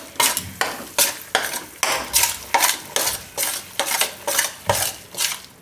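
Sukhdi mixture roasting in ghee in a pan over a low gas flame, stirred with steady, rhythmic scraping strokes about twice a second, close and fairly loud, with no talking.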